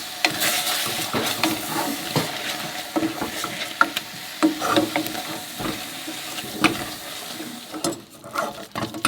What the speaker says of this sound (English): So we're going to put the sugar in, 150 grams, 1 cinnamon stick, and 2 cloves.